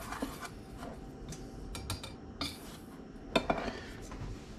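A hot pan is lifted off the heat on a stovetop, giving a few light metallic clinks and scrapes against faint kitchen background, close and soft.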